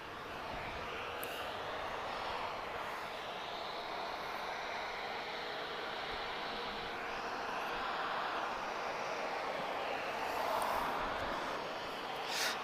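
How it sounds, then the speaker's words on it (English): An Airbus A330neo airliner at Lisbon Airport gives off a steady, distant, broadband engine roar that slowly swells and fades, heard alone with no voices. "Temos aqui este bonito, majestoso e magnífico Airbus A330 Neo"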